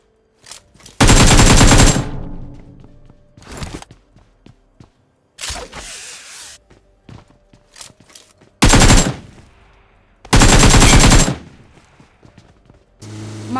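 Loud bursts of automatic gunfire from the battle royale game BGMI, several sustained volleys with scattered single shots, thuds and impacts in between, and no talking.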